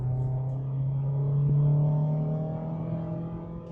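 Mazda Miata MX-5 ND Club Sport engine pulls steadily under acceleration in a high gear, a loud, close, continuous drone that rises slowly in pitch for about four seconds.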